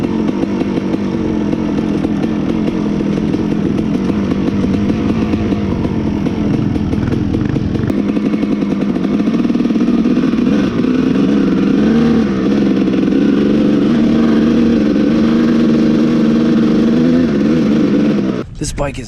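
A utility quad's engine drones and revs continuously off-road, loud and close throughout, with a rough buzzing tone that shifts pitch slightly as the throttle changes.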